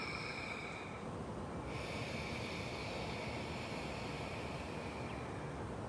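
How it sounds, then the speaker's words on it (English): Ujjayi yoga breathing drawn through the throat, a steady close-up breathy rushing hiss held right at the microphone, continuous and fairly loud with a slight change in tone partway through. "That sound is coming from the middle of your throat rather than from just your nose"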